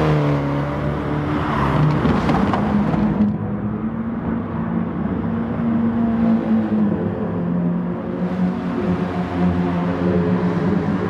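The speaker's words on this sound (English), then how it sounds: "this Audi TT Cup was running sweet though" An Audi TT Cup race car engine in a racing video game drones loudly and steadily for about eleven seconds, pitch shifting between gears as it accelerates through a lap, with no talk.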